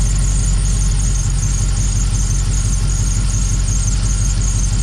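Dodge Dakota R/T engine idling with a steady low rumble and a persistent high-pitched whine, loud and close throughout, with no clear change in rhythm.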